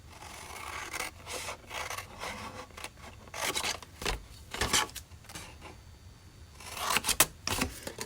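Scissors snip through paper or fabric in a series of short, close cutting and rasping strokes, irregular in rhythm, in cold outdoor conditions.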